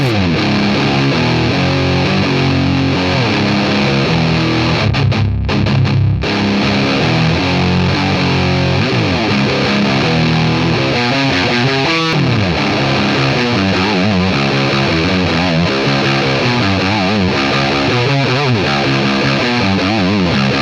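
A Donner Hush X pedal on a heavy, low-tuned electric guitar with thick distortion plays slow, sludgy doom riffs and sustained chords, loud and continuous with no voices.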